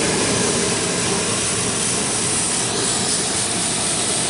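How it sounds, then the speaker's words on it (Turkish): A loud, steady roaring blast of a hot air balloon's propane burner in Cappadocia fills the whole clip, a broad hissing rush with no pauses and no voices. "Arkamda duyduğunuz ses propanın sesi."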